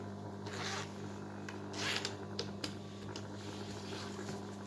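A clothing zipper rasps in several short, faint bursts as it is handled while a zippered side pocket is sewn, with quiet gaps between the strokes.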